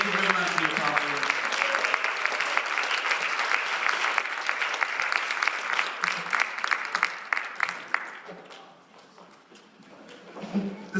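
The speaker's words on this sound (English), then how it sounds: "Big round of applause for SC Office." An audience claps loudly and steadily at an MLK Day celebration, a dense sustained round of applause that thins out toward the end.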